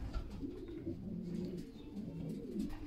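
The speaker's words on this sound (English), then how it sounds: "I got double the mountain pigeons here today" Racing pigeons in a loft coo steadily in low, rolling murmurs, close and continuous, with several birds overlapping and no talking.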